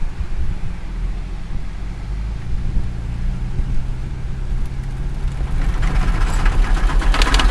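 Off-road vehicle with locked differential pushing through deep beach sand, a rumbling low engine drone under buffeting wind noise that grows rougher and louder toward the end.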